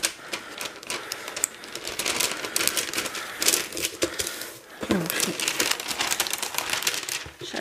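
Paper crinkling and rustling while a Degustabox food subscription box is unwrapped, close and continuous with dense crackles and small taps throughout.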